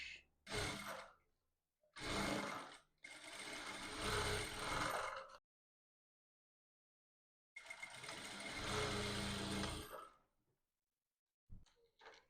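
A sewing machine stitching the seam allowance of a waistband runs in several short and longer bursts of whirring motor noise separated by silent pauses, fairly quiet and close.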